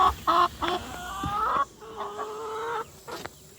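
Hens clucking loudly inside a coop by the nesting boxes on a Central Texas homestead, a run of close, repeated bursts of drawn-out cackles with short pauses between.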